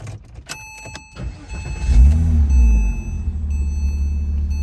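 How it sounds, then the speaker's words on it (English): A Porsche Boxster 987 engine cranks and fires up at close range, a sharp starter burst settling into a loud, steady low idle, preceded by a few clicks and a faint electronic tone. "Now let me turn on the car."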